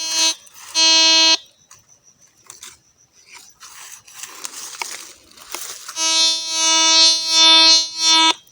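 A metal detector used for treasure hunting old coins sounds a loud, buzzy alarm-like tone in a short burst, then scratchy digging and handling noises, then a longer sustained tone that wavers near the end.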